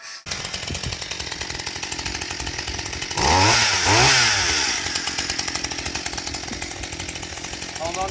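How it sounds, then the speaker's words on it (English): A chainsaw runs loud and steady, its engine note climbing and revving harder for a couple of seconds midway before settling back to a constant drone. "There's the chainsaw."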